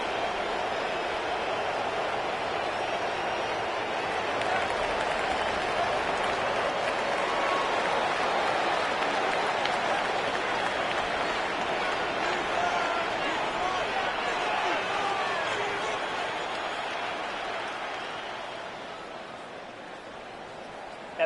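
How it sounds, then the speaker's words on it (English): A football stadium crowd at an NFL 49ers game roars continuously in a dense, sustained wash of cheering that fades slightly toward the end, with commentary voices underneath. "Listen to this crowd."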